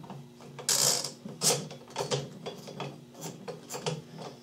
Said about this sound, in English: and it unscrews the barrel nut.